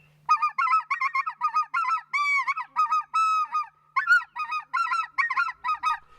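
A caller imitates white-fronted geese on a goose call, producing a rapid, loud series of high yelping honks and squeals in quick multiples, heard close and alone with no talk.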